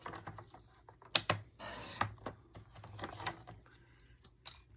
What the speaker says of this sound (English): So I'm just gonna cut this here.